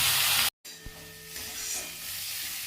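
A spice paste of tomato, ginger, garlic, onion, cumin, turmeric and Kashmiri chili powder hits hot mustard oil, a bright, steady sizzle that breaks off briefly, then resumes as a softer hiss with light stirring clinks.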